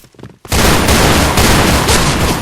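MK23 pistol fire in a Point Blank first-person shooter game, a sudden loud burst of dense, continuous gunfire and blasts that erupts after a brief quieter moment and holds until the end.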